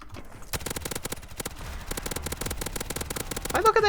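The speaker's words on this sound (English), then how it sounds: "Do you like shooting anything this much with this powerful of a gun?" Rapid, sustained automatic gunfire from a powerful gun in the Modern Warfare 2019 zombies mode, a dense train of loud close shots running almost continuously, ending in a brief burst of distorted voice.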